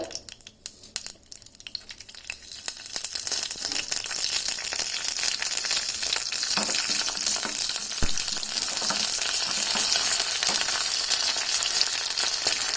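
Red chillies and mustard seeds drop into hot oil, starting with a few light clatters and then building to a loud, dense, steady sizzle that carries on alone.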